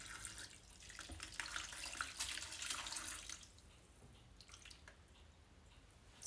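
Water pours steadily into a slow cooker over beans and a roast, a continuous splashing stream that is loud for about three seconds before easing to a softer trickle.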